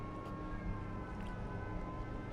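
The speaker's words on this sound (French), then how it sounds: "C'est peut-être une sirène de navire." Ship's siren at sea, a steady sustained tone holding level for a couple of seconds, faint and distant beneath broad, hissing background noise.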